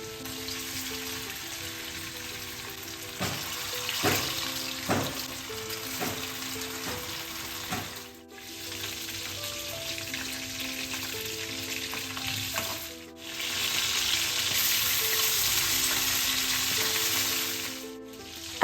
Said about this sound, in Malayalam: എണ്ണ ചൂടായി വരുമ്പോൾ ദാ ഇതുപോലെ അങ്ങ് ഇട്ട് കൊടുത്ത് ഫ്രൈ ചെയ്തെടുത്താൽ മതി